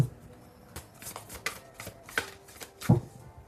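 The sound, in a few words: shuffling tarot cards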